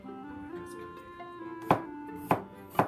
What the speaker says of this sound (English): We'll cut these 2 garlic.